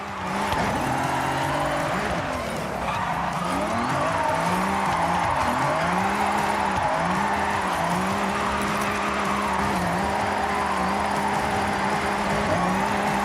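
A car in a racing video game brakes, drops into second gear and powers through corners, its engine note rising and falling in repeated surges over a steady, loud drone with no pauses.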